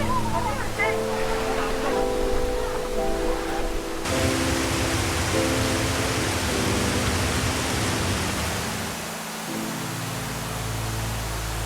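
Waterfall at Milford Sound, New Zealand, roaring as a continuous loud broadband rush of falling water, steady and close for the whole stretch with a low rumbling undertone.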